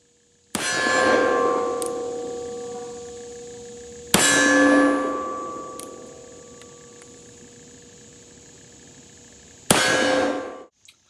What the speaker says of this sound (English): here we're shooting the Thunderbolt with black powder cartridges